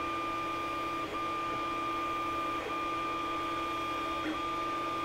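A 3D printer prints drone parts with a steady motor hum and whine that holds through the whole stretch. A few faint ticks come at intervals as the print head moves. No voices.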